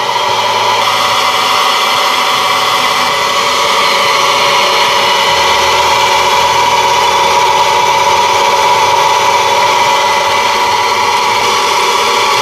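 A radial pump runs steadily with a constant mid-pitched mechanical drone as its valve is being opened, loud and close with no break.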